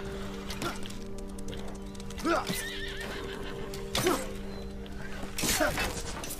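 Several whinnies from horses in the video game Apotheon rise over steady clip-clopping hooves amid combat clatter, with a few neighs spaced a second or two apart.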